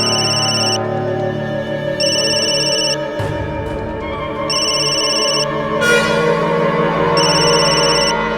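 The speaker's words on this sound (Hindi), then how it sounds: "जरूर जरूर दीदी का फोन होगा।" A telephone ringtone sounds in repeated electronic bursts with short gaps, loud and close, over a steady musical background tone, with no talking.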